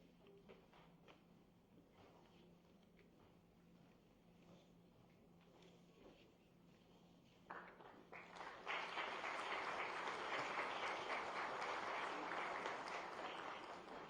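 Scattered, faint claps and background room noise at a government MoU signing event give way to a full round of audience applause that builds up quickly and holds as a dense, steady clatter until the end.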